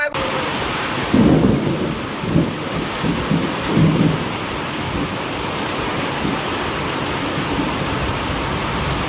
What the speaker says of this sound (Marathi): चालू पाऊस गांधीनगर मध्ये